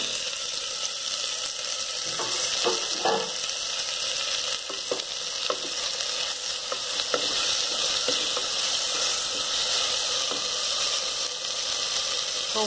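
Tomatoes frying in a pan for mochai kathirikai kulambu, a bright, constant sizzle close by with repeated soft stirring scrapes throughout.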